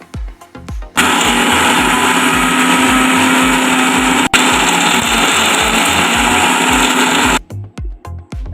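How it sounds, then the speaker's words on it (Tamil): A mixer grinder whirs loud and steady for about six seconds as it grinds coconut mint chutney, a high motor whine cut off abruptly, with brief knocks and pauses before and after. "ஸோ இப்போ நம்ம வந்து இதை அரைச்சி எடுத்துக்கலாம்"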